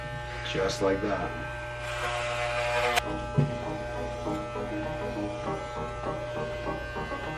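Electric hair clippers buzz with a steady hum throughout a home haircut, close by, while a person talks briefly over the drone.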